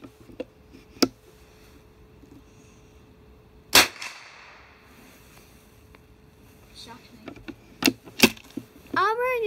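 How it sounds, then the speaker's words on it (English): .22 LR rifle shots fired at a 50-yard range: a few sharp, isolated cracks spaced seconds apart, one louder than the rest, with quiet outdoor background between them and voices at the end. "Shoot the bench. Shoot already."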